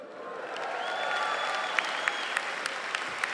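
Crowd applause at a university graduation ceremony in a large hall, broad steady clapping with a few sharp louder claps standing out near the front as it continues.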